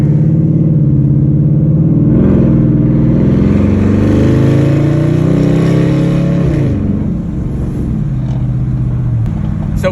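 Car engine revving hard and accelerating at a night car meet where BMWs and a Mustang are present, a loud sustained roar with rising and falling pitch sweeps across the whole stretch, no talk over it.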